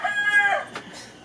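A rooster crows once at a hut in the Philippines, a strained, moderately close call with a rising then falling tone, followed by faint low rustling.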